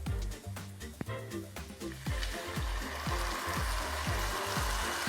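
Wine poured into a hot pan of tomato puree for a duck confit lasagna sauce, with a steady close sizzle and bubbling that swells into a louder hiss partway through, alone without talk.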